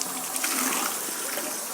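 Tap water gushes steadily from a bathroom faucet, a close, continuous hissing splash with no pauses and no voices.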